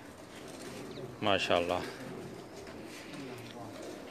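Pigeons of a Pakistani Sialkoti bloodline coo on a rooftop loft, a short burst of throaty cooing rising clearly above steady background noise, with someone speaking briefly nearby.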